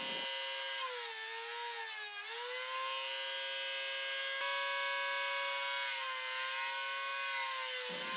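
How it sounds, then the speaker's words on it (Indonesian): A power planer runs steadily across both faces of a piece of scrap wood, a continuous high whine with a buzzing edge that holds for about eight seconds with slight dips in pitch, loud and close, with no voices. "Serut dua sisi permukaan kayu."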